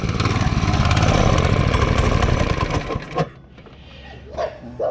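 A rare old Honda motorcycle engine runs with a loud, rough, sputtering putter for about three seconds, then cuts down to a quieter idle with a few revving blips and no talk.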